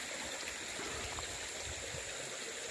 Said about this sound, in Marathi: इथं पाठीमागे तुम्हाला छोटासा ओघळ दिसतो